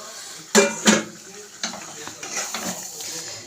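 Yogurt, turmeric and salt marinated chicken dropped into a hot pan for Punjabi chicken, two sharp thuds and clatters followed by sizzling and scraping stirs, fairly close with no talk.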